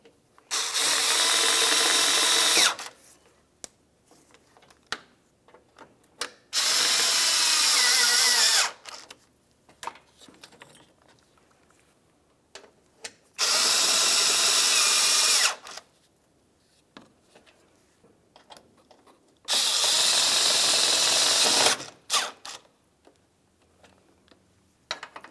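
A power tool tightens bolts on the AC condenser of a 2000-2006 Chevrolet Tahoe, four loud whirring bursts of a few seconds each, separated by quieter clicks and handling noise.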